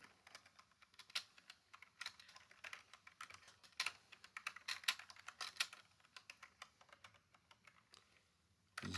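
SQL code being typed on a computer keyboard, with a quick irregular stream of soft key clicks at close range and no voices.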